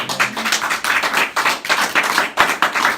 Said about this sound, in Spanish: ¿Cuántos dan un aplauso a Jesús?